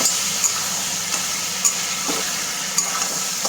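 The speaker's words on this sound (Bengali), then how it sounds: "এখন আগে কাঁকড়াটা ভালো করে কষিয়ে নেব" Sea crab stir-fries in a hot pan for a spicy kosha, a constant close sizzle punctuated by sharp spatula scrapes and clicks every half second or so.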